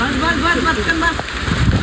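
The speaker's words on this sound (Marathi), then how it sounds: "कारण की जाम पाऊस पडतो" Heavy rain hiss filling the space, loud and constant, with voices speaking under it.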